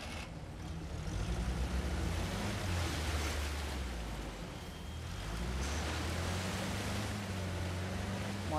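A waterfall in the video game Uncharted: The Lost Legacy gives a steady, dense rushing roar of falling water that fills the scene, loud and continuous with a slight swell, with no voices.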